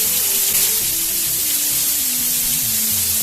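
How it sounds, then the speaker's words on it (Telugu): Water pours year-round from a waterfall at a temple in the Nallamalla hills, giving a steady, loud broadband rush with a low droning tone running beneath it and no talking. "సంవత్సరం పాటు వాటర్ అనేది అలా పడుతూనే ఉంటుందంట"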